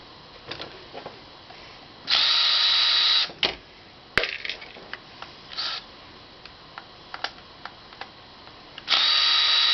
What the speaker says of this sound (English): I got my poor man's impact wrench.